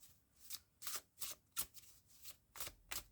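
Astrology cards being shuffled for a reading, a run of crisp riffling bursts repeating in a steady rhythm about every half second, close and clear with no talking.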